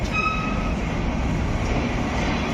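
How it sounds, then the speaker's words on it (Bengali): A train departing Benapole for Dhaka rumbles steadily along with a dense low roar, a faint high squeal fading early, continuous and fairly loud with no voices. "ট্রেন ছেড়ে দিয়েছে ট্রেন চলে যাচ্ছে ঢাকার উদ্দেশ্যে"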